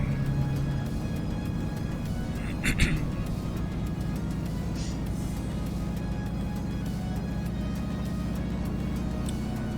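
Cessna 195 radial engine in Microsoft Flight Simulator 2020, heard from the cockpit as a steady, loud, continuous drone that holds through the whole stretch, with a brief knock partway through.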